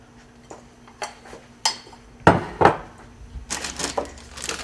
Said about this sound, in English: I'll put it out on my serving tray